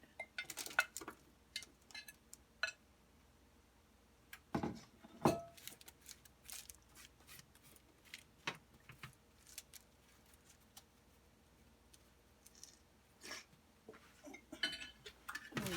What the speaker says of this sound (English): And you're going to spread these evenly on your baking sheet.